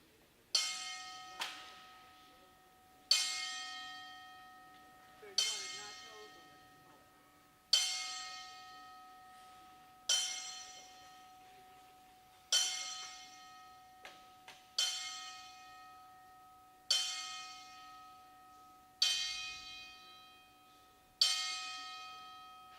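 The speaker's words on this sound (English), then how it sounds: "let's give them a 10-bell salute, please" A wrestling-ring bell rings a ten-bell salute: ten loud, clear single strikes spaced about two seconds apart, each ringing out and fading before the next, with near silence between them.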